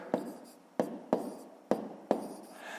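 Numbers are written by hand during a fifth-grade math exercise: five sharp pen or chalk taps and strokes come at a steady rhythm, close and distinct against a quiet background.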